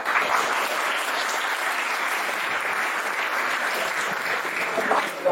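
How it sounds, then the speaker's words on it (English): College audience at a Union budget panel discussion in Bengaluru giving a sustained round of applause, loud and dense, holding steady for several seconds with only faint voices beneath. "Give a round of applause to him."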